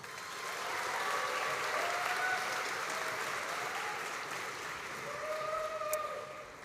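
Applause from a graduation audience congratulating graduates at an evening ceremony, steady clapping that swells, holds, and eases slightly, with faint tonal sounds and brief indistinct voices underneath.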